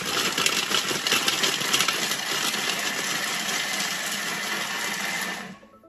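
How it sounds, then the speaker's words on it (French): A kitchen mixing appliance blends chocolate banana muffin batter with milk chocolate at a set speed, a loud, dense whirring and rattling for about five seconds before it cuts off abruptly. "On insère le couvercle et le gobelet doseur. Et on va mixer 5 secondes vitesse 6."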